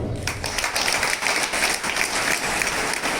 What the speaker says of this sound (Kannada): ಅವರ ನೆನಪಿಗಾಗಿ ಒಂದು ಚಪ್ಪಾಳೆ